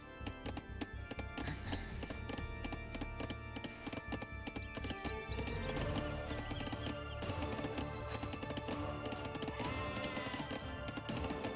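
A scout unit's horse in Age of Empires II, with rapid clip-clop hoofbeats and occasional whinnies heard over busy, continuous game sounds and music.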